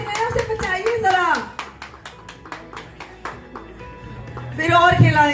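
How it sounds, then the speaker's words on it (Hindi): At an award ceremony during a dealer meeting, an audience claps briefly while a host speaks over a microphone, and the scattered hand claps sit mostly beneath and between his words. "प्लीज आप जोरदार तालियां तो बता दीजिए।"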